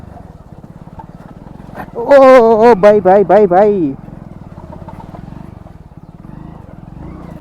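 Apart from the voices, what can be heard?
motorcycle riding on rough road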